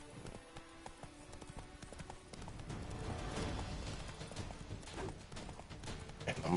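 Rhythmic hoofbeats of a galloping horse in a PS4 video game, fairly faint, with rustling and sword-swinging clattering effects layered over them.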